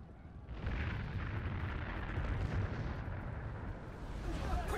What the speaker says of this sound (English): It's fire.